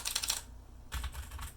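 Typing on a Kinesis Freestyle 2 ergonomic keyboard, a non-mechanical board with soft, mushy keys: two close bursts of rapid keystrokes separated by a short pause, near and clear, with no talking.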